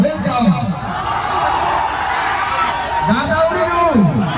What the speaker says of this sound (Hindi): यहाँ पे देखो भैया भीड़ पागल हो जा रही है